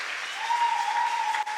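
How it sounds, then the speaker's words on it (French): A church congregation claps loudly just after a Bible reading, steady dense applause filling the room for the whole moment. "Est-ce qu'on peut acclamer très fort pour cette parole?"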